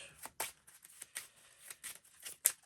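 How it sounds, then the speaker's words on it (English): Playing cards being shuffled into a deck during a solo session of Ward the Card Game, a series of short crisp riffling snaps and slides at close range, with no talk over them. "I have to shuffle 2 cards into my deck and draw 2 cards"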